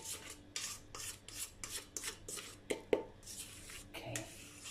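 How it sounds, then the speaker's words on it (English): A spatula spreads cream topping thinly across a vanilla cake, making a quiet, rhythmic series of soft scraping strokes about twice a second, close by, with no one speaking. "Spread it thinly."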